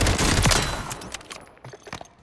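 A burst of SMG automatic fire in a shooter game, loud rapid shots for about a second, then trailing off into scattered quieter clicks and echoes.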